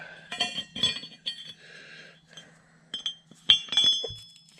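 Metal nuts, bolts and flat washers being rummaged through, giving bright clinks and rattles in short bursts with quiet gaps between them, close and fairly loud.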